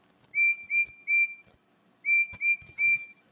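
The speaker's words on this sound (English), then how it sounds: "Here's his whistle." Percy the small engine's train whistle from a locomotive video game gives six short, bright, shrill toots in two groups of three, with faint clicks between them.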